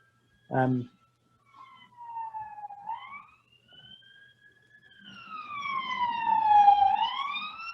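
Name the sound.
police siren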